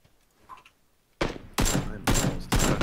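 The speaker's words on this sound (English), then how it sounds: "Who's shooting at me from where?" Close, loud gunfire in the battle royale game PUBG: after a near-silent moment, a few heavy shots crack out in quick succession, each ringing with a short echo.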